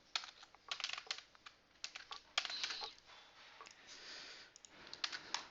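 Keys clatter in quick irregular bursts on a computer keyboard while Java code is being written, close and fairly quiet, with short pauses between runs of keystrokes.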